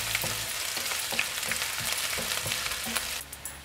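Curry leaves, chopped green chilies and chopped garlic frying in oil for a lemon and dates pickle, giving a steady close sizzle with light stirring clicks throughout and no talk.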